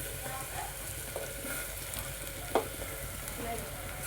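Cut mushrooms sizzle and fry in a ground coriander masala, a steady crackling hiss with occasional stirring clinks of a utensil against the pan.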